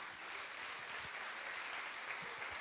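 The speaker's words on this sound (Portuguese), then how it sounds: "Quem pode dar uma salva de palmas para o Senhor?" Steady applause from a church congregation during a service, a dense even wash of clapping filling the whole moment without voices.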